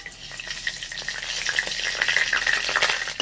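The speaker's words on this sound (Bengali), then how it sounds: "তেলটা পুরোপুরি গরম হয়ে গেছে। এবার দিয়ে দেবো ফোড়ন।" Whole spices (star anise, cinnamon, green cardamom, black peppercorns and other whole garam masala) sizzle and crackle steadily in hot oil, with a close, bright frying hiss and scattered pops and no talking.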